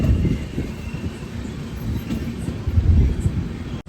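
The Hampi Express rumbles as it enters Banapura railway station, a steady rolling clatter heard from inside the carriage, with a brief drop at the very end.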